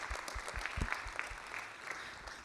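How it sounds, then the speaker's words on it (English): An audience at a growth leadership talk gives a brief round of applause, a thin, scattered patter of hand claps heard faintly from a distance. "can we give a round of applause for those employees that get to feel heard there?"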